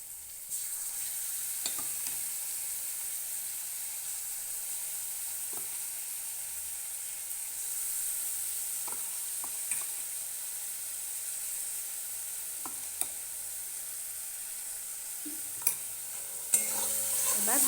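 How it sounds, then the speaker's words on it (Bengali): Ginger, garlic and dried chilli paste frying in a pan with turmeric and salt, a steady soft hiss running throughout, broken by scattered faint clicks and scrapes of stirring. "এবার ভালো করে কষিয়ে নেব"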